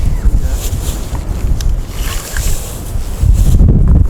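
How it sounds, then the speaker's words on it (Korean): Strong wind blows across a frozen lake during ice fishing for crucian carp at Daeho reservoir, roaring and buffeting close to the microphone in uneven gusts, with no clear talk in between. "아 바람 많이 붑니다"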